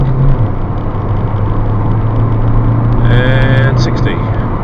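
A 2008 Toyota Avensis 2.0 diesel car accelerating hard from rest on wet roads, a steady loud engine drone with a rising tone, heard from inside the cabin.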